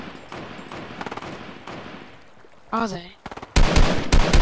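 Automatic weapon fire in an iOS shooter game: light distant bursts early, then loud close rapid volleys at the end, with players talking briefly in between.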